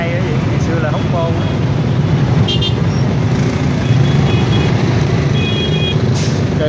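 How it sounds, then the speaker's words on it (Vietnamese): Dense traffic jam on a busy road at the An Suong junction in Saigon: a loud, constant roar of trucks and cars with scattered horn toots and short beeps, while someone talks over the din. "Đang kẹt xe."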